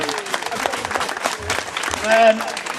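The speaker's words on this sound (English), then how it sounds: "Big round of applause. Big round of applause for Osman and Hassan." A crowd at a Stand up for Palestine gathering in Wakefield claps for two boys, Osman and Hassan, with uneven applause that swells and dips while voices talk over it.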